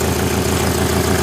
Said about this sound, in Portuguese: esse motor só está com 700 RPM, está fazendo com 3 cilindros, porque eu tive que soltar uma vela para fazer a demonstração